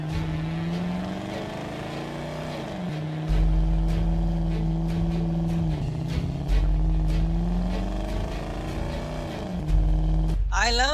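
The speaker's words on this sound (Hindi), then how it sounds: "छोटू और लंबू अपनी गाड़ी में ट्रेन का पीछा करने लगते हैं।" An animated car chases a train, its engine a loud, close whine that repeatedly dips and climbs again as it revs over about eleven seconds.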